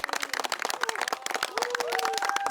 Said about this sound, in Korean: 박수 안 치고 뭐해?